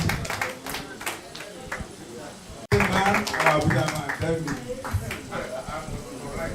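An audience applauds at a 40th anniversary celebration of the Playfair Memorial College 1982 set in Ilorin, with scattered claps that swell into denser clapping partway through, mixed with voices talking.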